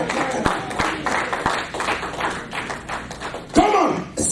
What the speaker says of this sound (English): Can you clap for Jesus?